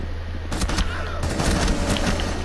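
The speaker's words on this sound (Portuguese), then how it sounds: "Tomei tiro de trás aí, não sei se foi TK" Bursts of gunfire in a tactical shooter video game, several sharp shots clustered together over a steady low hum, fairly loud and close with no talking.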